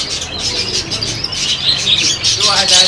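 Many birds chirp and tweet continuously at close range at a bird market in Salé, Morocco, a dense bustling chorus with cooing, and a voice speaking underneath.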